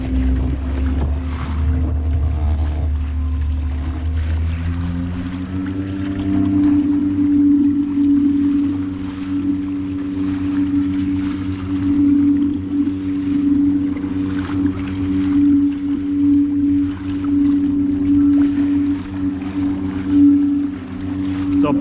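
Two Bixpy electric motors, one on a Mirage Drive adapter and one mounted at the back, push a Hobie Outback kayak at full speed, making a wake. A steady, loud droning hum rises in pitch after a few seconds, then holds with wind and water noise.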